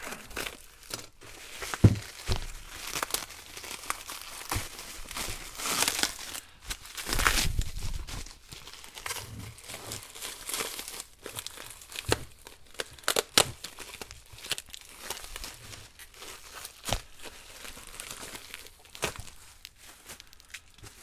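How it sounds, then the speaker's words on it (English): Bubble wrap and tape being pulled off two old Rockford Fosgate amplifiers, close crinkling, rustling and tearing bursts coming in irregular handfuls with quiet gaps between. "I just put that bubble wrap with tape on it over there."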